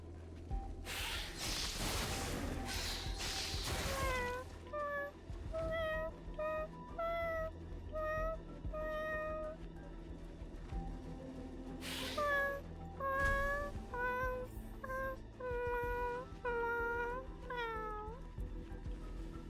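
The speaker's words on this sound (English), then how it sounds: "This poor cat." A cat meows repeatedly in the video game Honkai: Star Rail, a run of short, clear, rising mews in quick succession with a pause and then another burst, over quiet ambient game sound.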